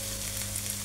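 Cumin and spices sizzle in hot oil for chicken biryani, a brief, steady close-up frying hiss with no voices.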